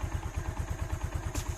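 A Honda TRX ATV fitted with a Chinese aftermarket carburetor idles close by, a steady, even, rapid engine pulse with a brief higher click near the end, no voices.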